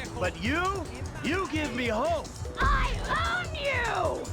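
A cat in Grand Theft Auto V meows several times in quick succession, rising and falling cries that are close and clear, with a voice speaking over and between them.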